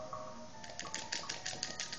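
Rapid key tapping while entering a name in the video game Spore Hero, a quiet run of light irregular clicks over faint game background sound.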